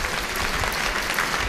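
An audience applauds with dense, steady clapping that fills the whole moment, loud and even throughout.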